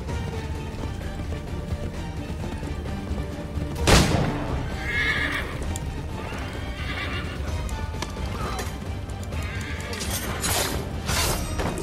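A horse whinnies loudly over steady hoofbeats and a dense layer of game music and effects in Assassin's Creed III, with a sharp crash near the start.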